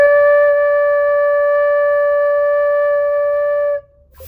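A flute tone blown across the embouchure hole makes a single clear, steady sustained note, pure and loud, held for nearly four seconds before cutting off into quiet.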